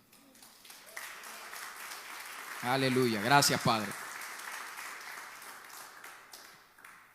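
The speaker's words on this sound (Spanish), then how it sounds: "Denle un aplauso al Señor." Church congregation applauding during a Spanish-language sermon, a soft steady patter of clapping running throughout while a voice speaks and briefly sings out in the middle.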